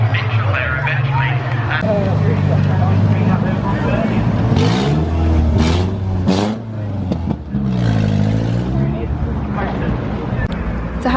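Peugeot 206 race cars at Brands Hatch drone and rise in pitch as they charge toward the finish line, engine notes sweeping up and down steadily and fairly loud for the whole stretch.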